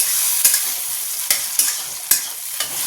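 Vegetables such as peas lightly frying in a pan, a constant sizzling hiss broken by several sharp scraping knocks of a spatula stirring them.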